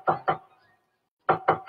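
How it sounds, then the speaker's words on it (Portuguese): Two pairs of firm knocks on a door, a double rap, a pause of about a second, then another double rap, close and clear with nothing else around them, as at a house reached after a long walk in a children's stage play. "Já bati na porta e ninguém atendeu."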